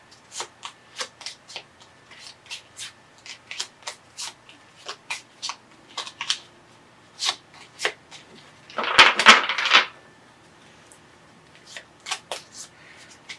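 Tarot cards are shuffled by hand in repeated short riffles and flicks, crisp papery bursts in an uneven rhythm, close and clear, with a denser shuffling flurry partway through.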